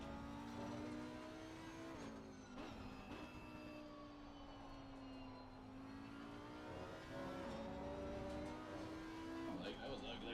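Steady high-revving race car engine in a racing game at Spa, pitch climbing and dipping through gear changes, loud and continuous in a game-like mix.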